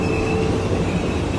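An airport terminal people-mover train at Houston Airport rumbles loudly with a steady roar and faint wheel squeal as it arrives.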